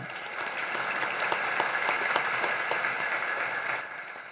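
An audience claps steadily during a religious discourse, dense applause that holds throughout and tapers slightly at the end.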